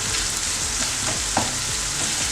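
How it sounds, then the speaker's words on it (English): Onions fry in a pan used for meatball sauce, a close, steady sizzle with a faint scrape or two, no voices. "So on the same pan, just add your onions."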